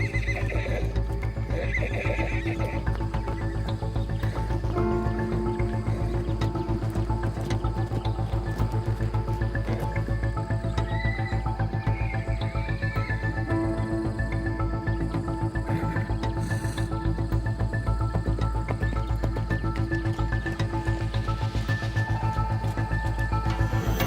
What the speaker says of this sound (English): These wild horses, known locally as brumbies, don't just roam the landscapes of Australia.